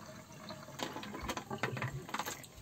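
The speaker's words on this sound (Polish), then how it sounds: "tutaj mamy to tylko w takiej ilości wody, jaką wlejemy." Water poured by hand into a small washbasin in a Dutch-style holiday cabin bathroom, an irregular splashing and trickling that builds in the second half, close by and moderately loud with no talk.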